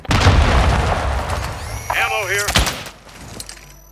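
A Semtex grenade detonates in a Call of Duty-style shooter, a single sharp boom cutting through busy gunfire and game noise, with a voice speaking over the action.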